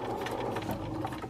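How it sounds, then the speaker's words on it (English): A sewing machine stitches rapidly over a previous seam in a short, even burst of fast mechanical clatter, close and moderately quiet. "You can see now clearly how I sew over the previous seam, so the stitches are really sewn down quite nicely."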